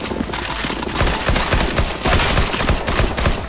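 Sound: gunfire shooting zombies in the video game CS:GO Zombies

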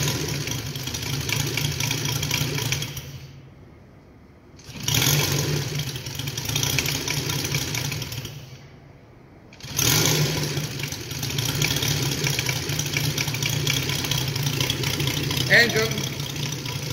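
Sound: UMS 260cc engine with new CDI starting and idling

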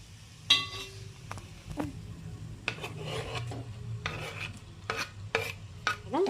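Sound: stirring amaranth curry with chilli powder in a pan

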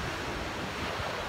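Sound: ocean waves breaking at night

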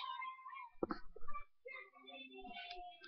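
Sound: pet cat meowing

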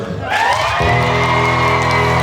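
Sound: concert audience applause and cheering

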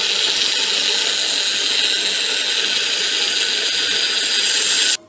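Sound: grinder grinding steamed onion and tomato masala

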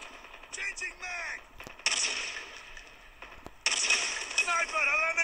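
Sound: gunshots in video game Call of Duty Mobile

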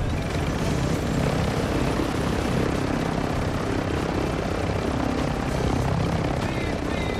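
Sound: helicopter in a video game

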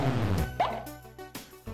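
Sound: plop sound when hitting crabs in Giana Sisters video game

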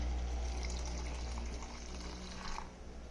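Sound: milk being poured into juice mixture

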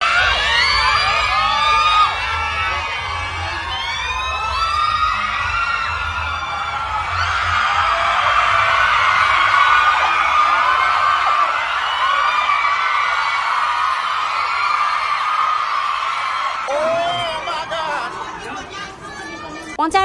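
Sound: crowd of fans screaming

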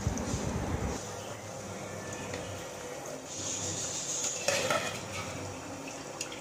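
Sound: mutton added to hot oil and stirred in pan

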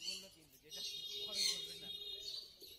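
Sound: owl finches chirping at a bird market

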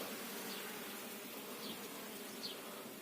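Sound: swarm of honeybees flying out of a hive

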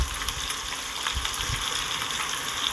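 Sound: long-cut potatoes frying in oil in fish curry

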